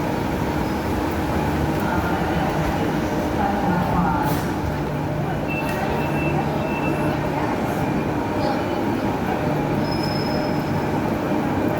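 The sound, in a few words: Perth new C-series train at the station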